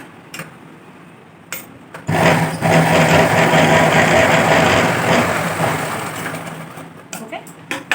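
A sewing machine runs a steady, loud double stitch along a seam on a pair of pants, its drone lasting about five seconds between brief clicks and handling noises at either end.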